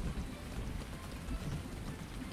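Rain falls in Farming Simulator 19 as a dense, even hiss with low rumbling, constant and moderately quiet with no talk.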